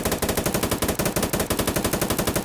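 The Patriot rifle in the shooter game Firefight fires in a rapid, steady automatic burst, loud and close, with about a dozen evenly spaced shots per second running continuously.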